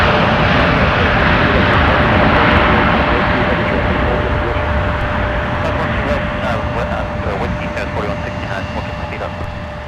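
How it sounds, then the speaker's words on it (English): A former Northwest Airlines Airbus A319 airliner at Minneapolis–St. Paul airport in winter, with a loud, steady broadband jet engine roar that holds for the whole stretch and eases slightly toward the end. "Speaking of ex-red tails, here is an ex-Northwest A319."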